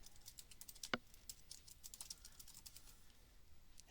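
A computer keyboard is typed on at close range, giving quick, quiet, irregular key clicks with one sharper tap, as a SQL query is entered to connect to Snowflake. No voices are heard.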